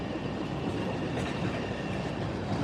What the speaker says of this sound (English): All right, this train is coming in here.